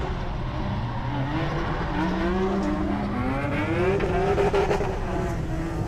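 A drift car engine revs hard at a drifting event, a loud sustained roar with rising and falling pitch sweeps, joined by tire squeal, close and continuous.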